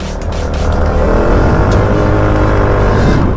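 A Motorstar Easyride 150P scooter engine revs loud and close right after a CVT upgrade, holding a strong, steady high-rpm drone with a dense buzzing tone throughout.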